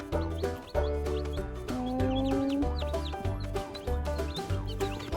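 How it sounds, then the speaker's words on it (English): Backyard chicks peep and cheep in quick, overlapping bursts, close and lively, with clucking mixed in and no talking. "We got some chicks."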